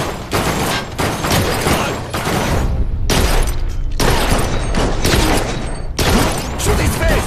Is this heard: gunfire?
yes